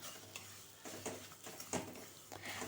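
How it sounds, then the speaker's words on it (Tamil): A cup of semolina is roasted in ghee in a pan and stirred, giving quiet, repeated scraping strokes over a soft, continuous sizzle. "இப்போ ஒரு கப்பு ரவை இப்போ இதை வறுத்து விட்டுருங்க"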